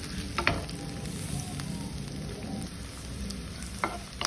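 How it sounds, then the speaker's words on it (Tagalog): Onion and garlic with ginger sizzle steadily in a hot pan as aromatics for pork loin, a continuous crackling fry with a few sharper pops and stirring scrapes, close and alone. "Isusunod na rin natin ang kanyang sibuyas, bawang."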